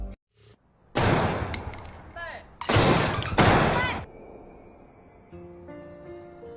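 Bursts of gunfire in a film scene of students at shooting practice: three dense, loud volleys about a second long each, then ringing background music.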